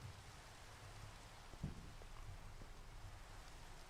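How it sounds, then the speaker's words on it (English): Mixed snow and rain falling in the Minecraft game world: a gentle, constant hiss of rainfall with a brief soft thump partway through, quiet and with no voices. "It's kind of a mixture of snow and rain."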